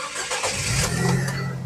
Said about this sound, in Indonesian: Oke, sekarang kita coba start mobil ya.